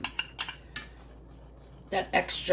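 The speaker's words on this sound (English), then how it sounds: "And I'm just going to pour that in and stir." A utensil clinks and scrapes in a pan while flour is stirred into chicken stroganoff sauce, several sharp metallic knocks early on, a quiet pause, then a final cluster of scraping clatter.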